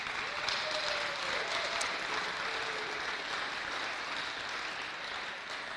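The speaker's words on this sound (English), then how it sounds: "we would like to thank and acknowledge some of these great athletes and teams with a nice round of applause for yourselves" A steady round of applause for volleyball athletes and teams at a championship showcase, a sustained even patter of many hands clapping, moderately distant, with a voice faintly audible at the start.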